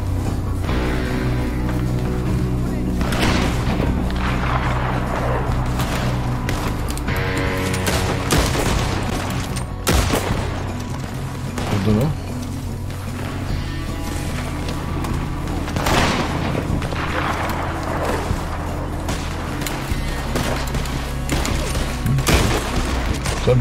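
Sustained gunfire from a Red Dead Online Call to Arms match in Colter: rapid overlapping shots and heavy booms crackle continuously at close range, with voices faintly present beneath the barrage.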